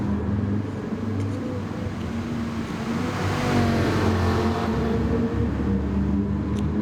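Car engines racing at Spa in a sim racing multi-class event with muscle cars and GT4s, a steady droning engine note with a shifting pitch that swells slightly midway, heard with no talking.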